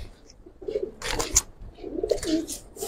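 Giribaj pigeon cooing in the loft, two low rumbling coos up close with rustling and wing or handling noise between them, no speech.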